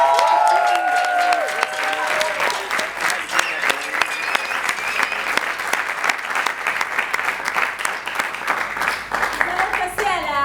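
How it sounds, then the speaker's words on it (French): An audience at a stage performance in Kamenge breaks into sustained applause, with dense crowd clapping and a few cheers running for about ten seconds while some voices sound underneath. "Encore plus d'applaudissements."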